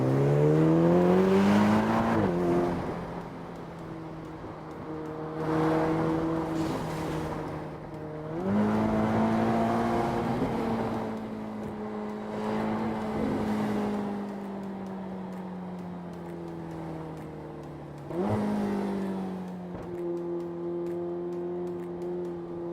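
A Ferrari Portofino convertible driven with the top down, its engine rising through repeated revving pulls and gear changes, falling back between bursts, loud and close with no talk.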